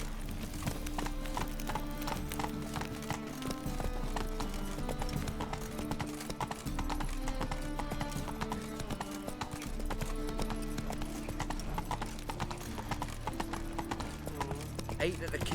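Roach, the horse in The Witcher 3, gallops in a quick, constant clip-clop of hooves, layered with game sound and a speaking voice throughout.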